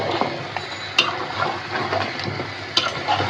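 Beef bhuna with spices sautéing in oil, a steady sizzle and fry broken by scraping stirs and occasional clinks of a spoon against the pot, close and alone.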